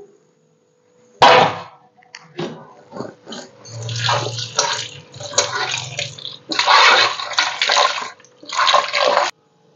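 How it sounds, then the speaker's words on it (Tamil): Conch meat being rinsed in water, with irregular splashing and pouring bursts, some loud and close, broken by brief pauses. "இப்போ வந்து செதையை வந்து கழுவிட்டு"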